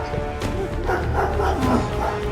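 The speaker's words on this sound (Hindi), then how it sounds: "गाइस, कुत्ते की भूखने की आवाज तो सुनो।" A dog barks several times at a middle distance, in short repeated bursts over steady background noise at night indoors.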